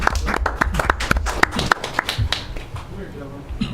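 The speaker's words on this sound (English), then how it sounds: "so we could give them a round of applause" Scattered clapping from a school board meeting audience honoring security staff, a few distinct claps near the start thinning out, with chatter and voices continuing underneath.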